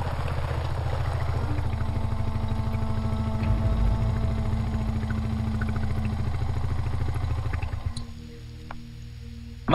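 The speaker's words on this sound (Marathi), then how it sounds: "मोटरसायकलीवर ना आलोय." A motorcycle engine runs steadily and close by for about eight seconds, its low throbbing drone with a rhythmic pulse, then cuts down to a quieter idle near the end.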